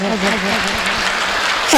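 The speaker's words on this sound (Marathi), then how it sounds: "गडगडाट असं खळखळ खळखळ टाळी वाजली पाहिजे" Audience clapping at a Mahashivratri gathering: a dense, steady patter of many hands, with a voice speaking over it throughout.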